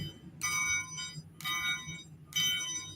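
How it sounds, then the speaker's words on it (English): Hand bell rung during a live ritual broadcast, three separate bright ringing strikes about a second apart, each with a shimmering metallic tone that fades briefly before the next, close and clear with no talking. "Thank you for hearing my bell."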